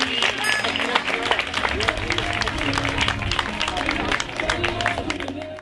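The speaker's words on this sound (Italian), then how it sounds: "Facciamo un applauso a questi" Applause for riders at an equestrian show-jumping competition at the Albereria equestrian centre: a crowd's scattered, crisp clapping over about six seconds, mixed with voices and some tonal background sound.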